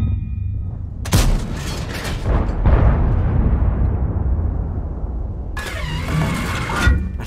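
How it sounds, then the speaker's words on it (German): Heavy tank in the World of Tanks video game, a deep rumbling engine and tread roar with a sudden heavy boom partway through and a metallic mechanical clatter near the end, loud and close, with no speech. "Ah, das Geräusch, wenn er nachlädt"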